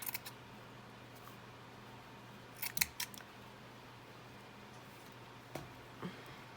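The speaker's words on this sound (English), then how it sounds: "we're just going to kind of haphazardly cut this." Scissors snip through leftover quilt fabric for a tin box gift craft, giving a few quiet, brief cuts in scattered pairs against a faint room hiss.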